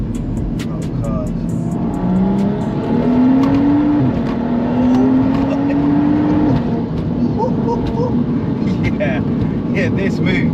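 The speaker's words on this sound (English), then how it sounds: "Okay, we're gonna get a second gear pull." A 570bhp BMW 135i pulls hard in second gear, its engine note climbing steadily and loud from near the cabin, then dropping as the gear ends, with a voice speaking over the rising drone.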